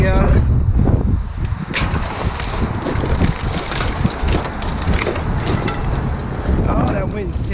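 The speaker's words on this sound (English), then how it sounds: "Oh, that wind's picking up." Strong wind gusting outdoors while someone goes dumpster diving, heard as a loud continuous roar and buffeting against the microphone with no pauses.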